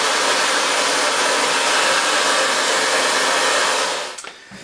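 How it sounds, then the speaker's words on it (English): A hair dryer blows continuously and loudly while heating and melting wax into a classic motorcycle jacket, a steady broadband rush that cuts off near the end. "I've gone over the entire jacket now with the hairdryer, melted that wax back into the jacket."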